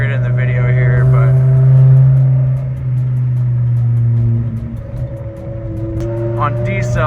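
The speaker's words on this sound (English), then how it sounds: "on decel, it definitely kind of burbles. And of course, these downshifts." A BMW E60 M5 V10 exhaust, loud and close throughout, with a steady low rumble that swells and settles as it burbles on deceleration and downshifts, while a person talks over it.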